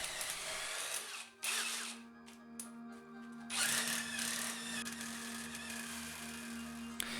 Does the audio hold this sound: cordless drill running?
yes